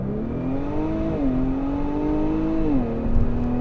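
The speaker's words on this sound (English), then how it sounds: "I'm just gonna grip the wheel, rip the gas, see what we get." A 2021 Infiniti Q50 Red Sport 400 AWD pulls hard from a standing start in automatic mode, its engine note climbing steadily with two quick upshifts dropping the pitch before it rises again, loud and close from inside the cabin.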